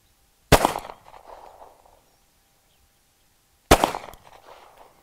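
Two loud, sharp pistol shots from a Colt Commander 1911, a few seconds apart, each with a short echoing tail at an outdoor range.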